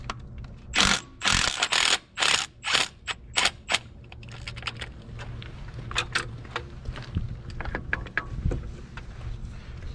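A ratchet wrench works bolts loose from the starter of a Ford 8N tractor, a run of loud rapid clicking ratchet strokes up close, then quieter metallic taps and scraping.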